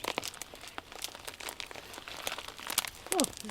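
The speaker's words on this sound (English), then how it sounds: "just take out all of the gravel, pull off the plastic bag." Thin plastic bag crinkling and rustling in repeated crisp bursts as it is pulled off a potted orchid's roots after the gravel is removed, close and moderately quiet, ending with a brief higher squeak.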